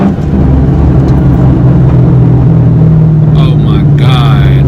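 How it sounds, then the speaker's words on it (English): A 2002 Mustang GT with its muffler deleted idles with a loud, close, deep rumble, with a few faint sharp crackles near the end. "This car is a whole different breed now. It even crackles and pops"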